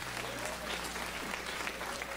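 Church congregation clapping and cheering to acclaim the Lord, a dense steady wash of applause from a crowd filling the room for about two seconds, with voices mixed in.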